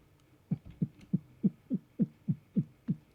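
A voice imitates alien dance music from the video game Satisfactory, with low, muffled rhythmic thumping beats, about nine evenly spaced pulses, quiet and steady like a distant bass.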